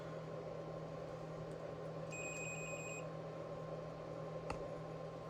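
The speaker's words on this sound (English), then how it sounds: "that was my my oscilloscope probe beeping" An oscilloscope probe gives a brief electronic beep with a high, pure tone for about a second over a steady low hum, with no one speaking.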